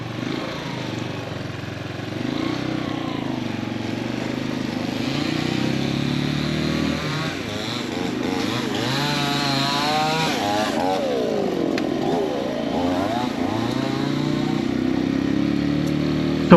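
Motorcycle riding up a mountain road from Lapangan to Balili in Mankayan, Benguet, its engine droning steadily and close throughout with rising and falling pitch as it climbs and shifts, plus rushing wind noise.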